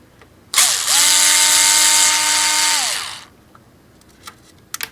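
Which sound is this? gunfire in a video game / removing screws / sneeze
removing screws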